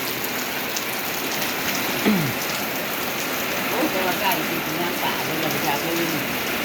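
Heavy rain pours steadily during a storm in Laos, a dense even hiss of drops on surfaces filling the whole stretch, with faint voices murmuring far in the background.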